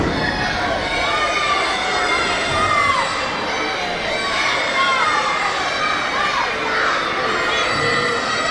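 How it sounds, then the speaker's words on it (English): Young wrestling fans scream and cheer in an arena crowd during a match, a steady wash of high-pitched shrieks and chatter that never lets up. "All the young fans in attendance The screams ringing through the ears of Maxwell Classic"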